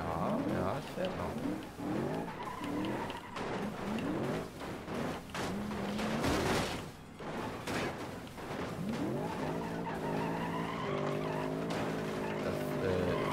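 A battered car is driven in BeamNG Drive, with engine drone and tire scrubbing running steadily for the whole stretch while someone talks over it.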